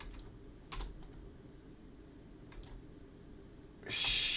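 A few sparse, quiet keystrokes tap on a computer keyboard in a hushed room, and a brief brighter hiss rises at the very end.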